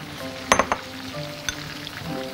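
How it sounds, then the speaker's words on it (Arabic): Mushrooms and onions sauté in a hot pan with a steady soft sizzle. A cluster of sharp utensil clinks and stirring scrapes comes early, and another lighter knock follows about a second later. "وياخدوا تشويحة حلوة قوي كده"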